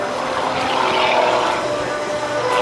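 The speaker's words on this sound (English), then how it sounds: "The rolling Harrier pass, slowing the airplane down to about 60 miles per hour and rolling it all the way around." A Harrier jet makes a slow rolling pass at an air show, a loud, continuous roaring engine whine that stays steady and close throughout.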